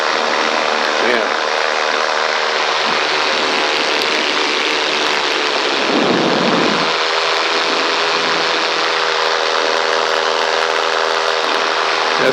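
A Switchy RC airplane's electric motor and propeller whine loudly and steadily up close, the pitch shifting as the throttle is pushed up and eased back, with a brief dip partway through.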